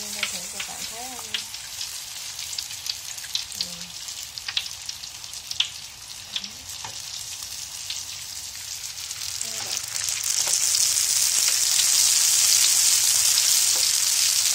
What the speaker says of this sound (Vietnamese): Nó như xèo xèo luôn các bạn.